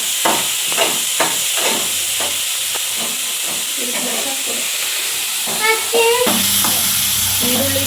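Chopped onions frying in a pan at home, a steady close sizzle and hiss with repeated stirring scrapes, and someone talking over it.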